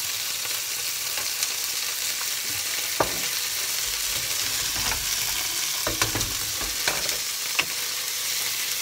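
White sausages (boudin blanc) frying in a pan with wholegrain mustard spread around them, a steady close sizzle broken by occasional sharp utensil clicks and scrapes, with no voices.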